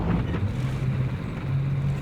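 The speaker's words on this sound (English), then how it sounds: "this engine noise is a bit unsettling." A German VK 3002 (M) tank engine in War Thunder drones in a low, rumbling hum, with a steady, muffled tone that carries a slight wind-like hiss, alone and without voices.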